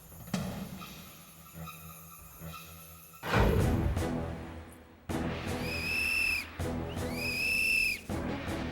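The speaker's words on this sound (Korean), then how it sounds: "호루라기를 부는 것이 좋습니다" A few shrill whistle blasts, sharp and piercing, come after some quieter rustling and thumps, each blast held for about a second.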